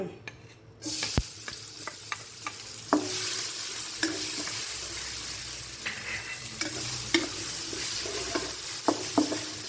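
Chili and garlic stir-fry in hot oil, a steady close sizzle broken by frequent scraping and clinking of a spatula against the pan.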